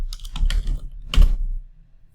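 Keys tapped on a computer keyboard in two short clusters of quick clicks, close and clear, with a pause between them and no voices.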